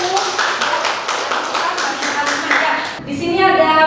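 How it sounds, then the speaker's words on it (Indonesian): Students in a classroom clap together in a rapid, steady burst of claps, with a short change to a different sound near the end. "Oke, tepukan dulu."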